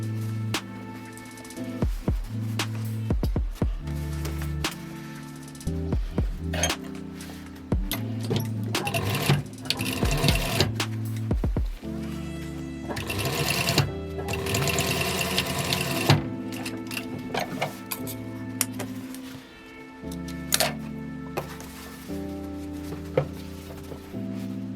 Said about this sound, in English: Stitch along both sides.